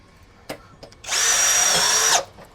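An APR AP34+ cordless impact drill runs at speed 2 in drilling mode, a loud steady whine lasting about a second after a few light clicks, then spinning down.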